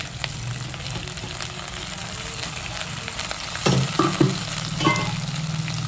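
Ginger and chili paste spices for a mutton curry sizzle steadily in a hot pan, a constant close frying hiss with a few clattering stirs of the spoon partway through.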